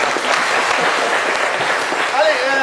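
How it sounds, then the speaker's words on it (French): Studio audience clapping on a French-language live show, dense continuous applause with a couple of short whistles near the end. "Applaudissez Jojo."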